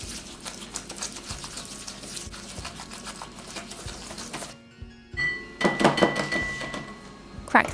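Melted butter and sugar whisked together in a bowl, a rapid rhythmic scraping and tapping that runs steadily, then pauses briefly and returns louder and busier toward the end.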